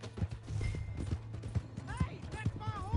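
Horse hooves clip-clop in a PS4 video game, a quick steady rhythm of hoof strikes under busy game sound, with voices talking and shouting over it.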